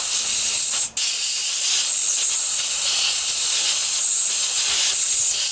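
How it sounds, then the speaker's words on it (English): A steady, loud hiss of cleaner sprayed onto a carburetor continues without a break, with a brief dip near the start. "Spray up around the carburetor here."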